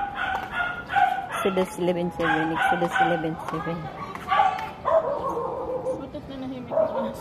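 A dog barks and yips repeatedly at close range in a residential area of Lancaster New City, Cavite, with some whimpering calls, while people talk over and between the barks.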